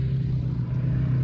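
A vehicle drags a pasture and a small corral area nearby, producing a steady, low engine rumble with a constant droning hum. The sound is close and continuous, with no breaks.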